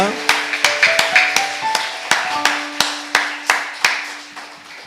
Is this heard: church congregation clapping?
yes